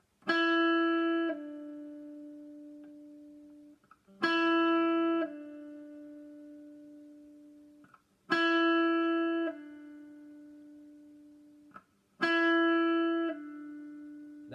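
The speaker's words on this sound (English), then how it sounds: "We're just going to pick the note and then we're going to flick that finger off" An electric guitar note is picked, then drops to a lower pitch as a finger pulls off and rings out; repeated four times evenly, with no talking.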